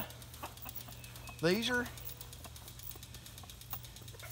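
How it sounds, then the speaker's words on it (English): An old game rooster crows once near a farm henhouse that also holds Americana hens and a game hen, a clear, rising call over a quiet background with soft speech around it. "now that's an old game rooster."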